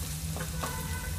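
Ginger garlic paste fries in a pan with a steady close sizzle, with a couple of soft stirring scrapes in a short burst.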